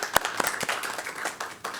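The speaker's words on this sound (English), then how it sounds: "I would give him a round of applause" A small round of applause breaks out at a school board of trustees meeting, scattered hand claps from a modest crowd, brief and fairly close.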